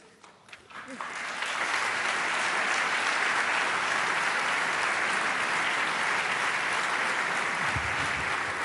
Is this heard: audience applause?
yes